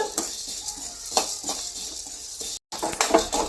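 Lentils being dry-roasted in a pan until reddened, with loud, close rattling and scraping of a utensil against the pan in repeated strokes, a brief gap near the end, and no talk.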